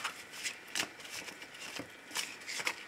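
Cards for a card reading are shuffled in quick bursts of papery riffles and flicks, close and fairly quiet, with no voice over them.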